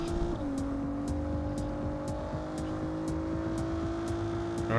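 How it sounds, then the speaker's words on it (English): A car cruising down a highway in the 2022 Saints Row reboot hums with a steady engine drone, its pitch dropping as it shifts early on, then holding an even, close whir. "Alright, driving the highway"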